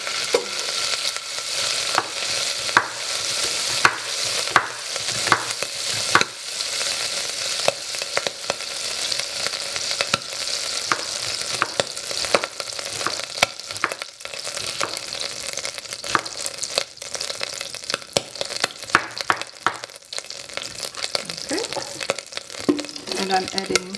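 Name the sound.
butter melting and sizzling in a hot pot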